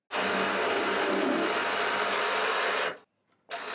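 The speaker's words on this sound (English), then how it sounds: "I'm drilling a 10mm hole and I'll open that up to 18mm." A steady, high-pitched machine whine runs for about three seconds and cuts off abruptly, then starts up again briefly, as a 10mm drill bores a hole into a metal part on a mill.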